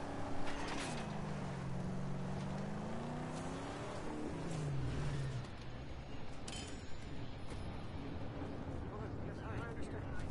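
Car engines drone and rev continuously in the Mad Max video game, a dense, loud vehicle roar with a voice talking over it early on.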